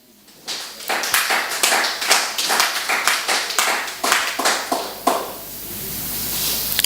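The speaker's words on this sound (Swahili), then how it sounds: "Lakini amejaribu, tumpigie makofi." A congregation at a Sunday church service claps hands together in unison, about fifteen sharp, rhythmic claps that build in, then stop, leaving a low room hum.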